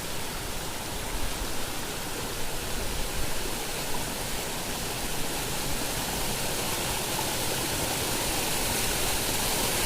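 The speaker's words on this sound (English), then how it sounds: "Guys, here water falls down 24/7 hours." Water pours nonstop down Bonda waterfall, a loud, steady, hissing roar heard up close with no pauses.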